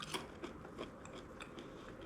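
Homemade dried banana chips bitten and chewed up close, giving a few faint crunches and soft chewing sounds over a low background hiss.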